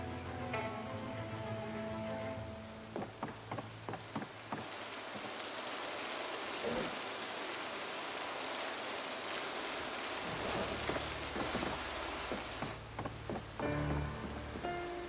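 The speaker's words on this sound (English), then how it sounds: "If you're wondering what's going on with the sound," Rain falling in the video game Project Zomboid makes a steady broadband hiss with scattered ticking drops, interrupted by a few brief pauses and dropouts in the rain noise, with no voices.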